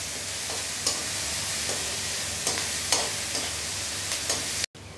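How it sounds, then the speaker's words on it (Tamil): Onions, green chillies and curry leaves fry in a pan with a steady close sizzle, broken by occasional stirring scrapes and brief louder spits, with no talk. "நல்லா வந்து கோல்டன் ப்ரௌன் கலர் வர வரைக்கும் ஃப்ரை பண்ணுங்க."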